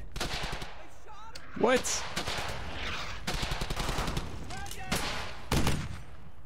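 Gunfire in the World War II shooter Brothers in Arms: Hell's Highway: rapid bursts of rifle and machine-gun shots, loud and close, with a few heavier blasts, while soldiers shout over the fighting.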